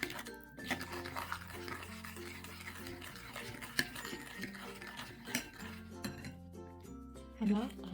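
Chicken wings tossed with fine red pepper, spices and oil in a bowl for crispy wings, giving soft stirring and clinking of a utensil against the dish, with background music throughout and a brief louder clatter near the end.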